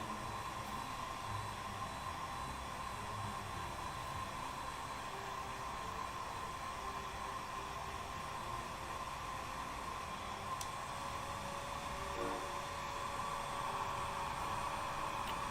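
A hair dryer runs steadily to dry ink on tabletop terrain, giving a constant close whooshing airflow with a sustained hum, with no talk over it.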